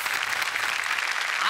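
A television comedy show audience, including young children, claps loudly in a dense, continuous burst of applause.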